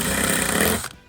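A drill bores through the roof bars of a Nissan NV200 micro campervan, a steady loud grinding whir that runs for about a second before stopping abruptly.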